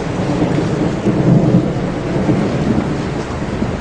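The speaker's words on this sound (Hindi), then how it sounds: "लगता है बारिश भी होने वाली है।" Low rolling thunder rumbles steadily with a dense hiss of rain, no voices, sustained and fairly loud throughout.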